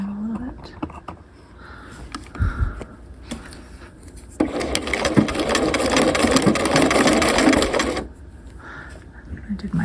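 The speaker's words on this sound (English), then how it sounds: "I'm just going to stitch right next to my canvas like I did with the under collar, all the way down to the hem" A sewing machine stitches a half-scale jacket lapel along its canvas, first in brief bursts with quiet handling sounds, then in a steady loud run of rapid stitching lasting several seconds before stopping.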